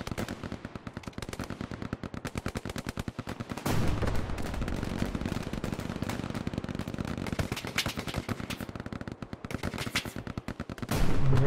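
Rapid machine-gun and rifle fire rattles almost continuously in the WWII shooter Hell Let Loose, loud and close, with a denser volley swelling partway through and a final burst at the end.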